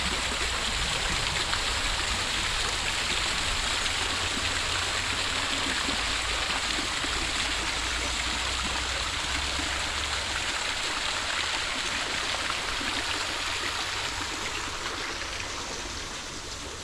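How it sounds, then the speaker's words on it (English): Water streaming from its source in a garden at Woolbedding, a dense, steady rushing flow that stays loud and unbroken throughout, easing slightly toward the end. "This is the source of the water."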